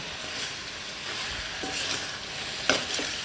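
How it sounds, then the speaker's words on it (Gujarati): Jaggery stirred into raw mango sabzi cooking in a pan: a low, even sizzle with a few scraping spatula strokes and one sharp clink near the end, close by. "હવે આપણે એની અંદર ગોળ નાખી દઈશું અને હલાવી દઈશું"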